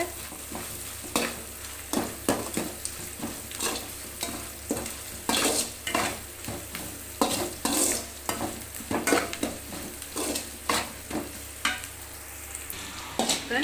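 Onions frying in a pan, turned browned and soft, hiss loudly and steadily while a spoon stirs them in a quick, repeated rhythm of scraping strokes.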